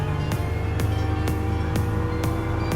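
A Porsche 911 on sports soft tires roars steadily in a racing video game, the engine droning at a constant loud level with sharp regular shifts or revs punctuating it about every half second.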